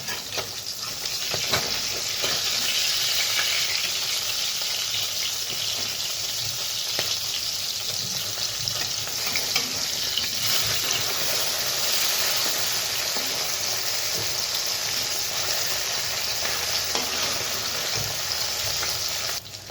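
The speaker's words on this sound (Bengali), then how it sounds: "মাছগুলো ভাজা হয়ে গেছে," A steady, loud sizzle of fish frying in hot oil runs throughout, with occasional faint clicks and scrapes, close up.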